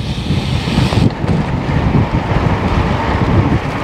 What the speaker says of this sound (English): it's windy, but it's not cold.